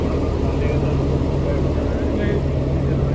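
Shimla toy train engine idling at the station at night, a steady low droning rumble that holds unbroken and close, with voices faintly underneath.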